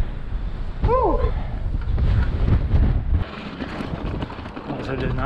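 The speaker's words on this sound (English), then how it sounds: "Sounds like it's breezy." A breeze gusts across an outdoor mountain-bike trail near Gordon Creek Falls in Utah, a steady low buffeting rush on the microphone with a short bird chirp early on.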